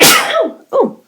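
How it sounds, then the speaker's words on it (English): A single sudden human sneeze, loud and close, with a sharp breathy burst followed by a shorter second exhalation. "a random sneeze out of nowhere"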